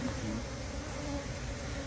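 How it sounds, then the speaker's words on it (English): Honey bees at a hive buzz in a continuous close drone, steady and moderately loud with no voices. "I'm looking at the bees down here"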